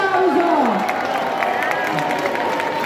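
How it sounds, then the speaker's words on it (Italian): A crowd applauds and cheers at the Festa della Rificolona festival, a brief burst of clapping and shouts mixed with nearby voices and babble. "un applauso."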